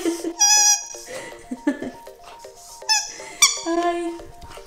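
Squeaky dog toy squeezed in quick repeated bursts, each squeak a bright, whistling tone, sounding close and loud with brief pauses between, a faint voice barely present.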